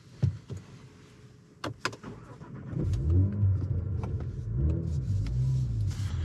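A 2022 Cadillac CT4-V Blackwing engine cranks over amid a few clicks, catches and settles into a low, steady idle rumble close by.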